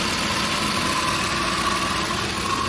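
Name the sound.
Porter LPG truck engine idling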